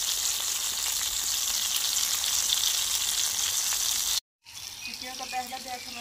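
Matar kabab patties frying in a pan in a village-style home kitchen, a steady close sizzle broken by a brief cut, then resuming with stronger crackling pops.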